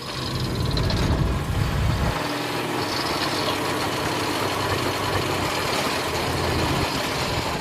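A car in first gear labours up a steep hill, its engine a steady, low, strained drone that grows rougher and heavier partway through, close and continuous with no talking.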